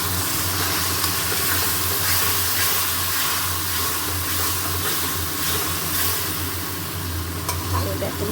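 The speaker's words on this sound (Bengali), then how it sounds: "আরও দেখুন ভালো করে কষবো মশলাটাকে। মশলা কষা হচ্ছে" Spices sizzle as they are fried down in a pan with chili powder, garam masala, ginger and garlic, giving a steady close hiss and crackle with faint stirring throughout.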